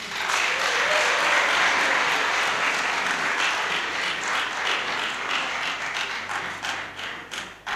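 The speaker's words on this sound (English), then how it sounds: "let us give her a big round of applause" Audience applauding a government minister at a radio studio handover event, a long dense round of clapping that thins into scattered individual claps near the end.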